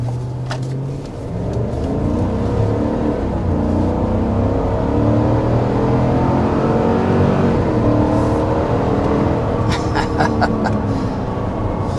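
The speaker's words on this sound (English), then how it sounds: "There's a quick acceleration up to a little past 60 miles per hour in the 2025 refreshed Chevy Suburban" A 2025 Chevy Suburban RST with its 6.2L V8 accelerates hard to just past 60 mph, a steady, loud engine roar building and holding throughout, heard from inside the cabin with no talking.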